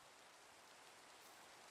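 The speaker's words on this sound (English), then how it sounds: "I just hope this rain doesn't turn into a thunder or anything." Rain falling in the video game Minecraft, a faint steady hiss throughout, cut off by a sudden loud thump at the very end.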